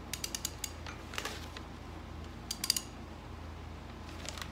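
Small engine wheel and piston turned over by hand, giving a series of faint mechanical clicks and ratcheting ticks, clustered early and again midway, over a quiet low hum.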